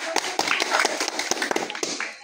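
A group of villagers claps for a child at a food challenge game, an uneven burst of nearby hand claps mixed with some talking and movement, fading slightly toward the end.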